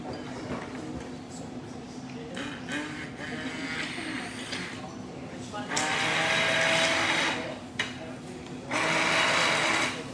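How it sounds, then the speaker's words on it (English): A kitchen blender whirs through a healthy treat recipe during a livestreamed cooking class, running in two loud, steady bursts with people talking before and around it. "we're going to blend it, and that's it. Let me get my blender."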